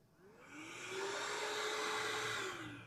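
A Flex 24V FX5231 cordless jobsite vacuum with its hose attached is switched on by remote, its motor whirring up to a steady loud whine, holding for a couple of seconds and then beginning to wind down, close by with no talking.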